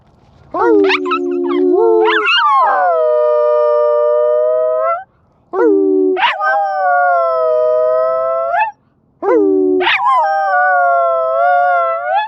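A dog howls like a wolf in mountain lion country, giving three long, loud, drawn-out howls, each rising at the start and then holding steady, with short gaps between them.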